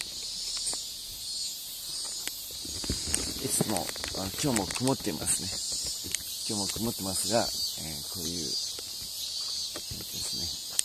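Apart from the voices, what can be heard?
cicadas chirping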